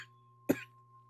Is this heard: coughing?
yes